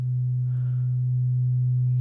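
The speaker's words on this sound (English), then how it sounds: "there's your sine wave right there." Steady sine wave tone from a Eurorack modular synthesizer VCO, a pure, unwavering low hum held evenly for two seconds with no other sounds.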